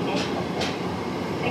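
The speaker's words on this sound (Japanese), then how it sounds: "この電車は渋谷行きです" A Tokyo Metro Ginza Line subway train runs underground, heard from inside the car as a loud, continuous rumble with two brief hissy swells, while a recorded announcement plays over it.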